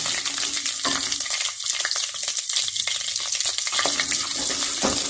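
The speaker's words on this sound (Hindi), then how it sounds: "दो से 3 चम्मच मैंने ऑयल के डाले हैं, अदरक लहसुन का पेस्ट डाला है 1 चम्मच। अब मैं थोड़ा सा भून लूँ" Ginger garlic paste, about one spoonful in two to three spoons of oil, sizzles and crackles steadily in a pan while being stirred, a close, continuous fry with occasional scraping.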